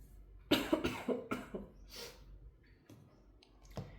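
Several sharp coughs in a quick cluster, close and fairly loud, followed by a few softer throat sounds and breaths.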